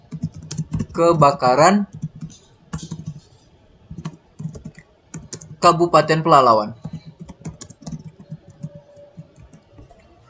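A computer keyboard clatters in two quick bursts of typing, light plastic key clicks, while someone speaks Indonesian in between and over them.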